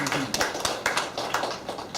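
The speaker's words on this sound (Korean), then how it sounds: "박수 한번 쳐줘" Several people clap their hands together in a steady, rhythmic group pattern, fairly close and lively, with voices mixed in.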